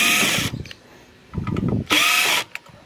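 A power drill whines in short bursts while backing screws out of die-cast aluminum scrap, two loud high-pitched runs with quieter scraping and handling noises between them.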